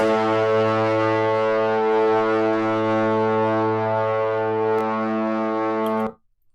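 A loud, sustained low brass-like cinematic braam run through an 1176 compressor, dense and gritty, holding steady for about six seconds before cutting off abruptly.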